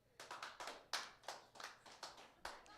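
A handful of comedy-club audience members clap at a stand-up show, giving sparse, evenly spaced claps that stay fairly faint and thin, with no voices over them.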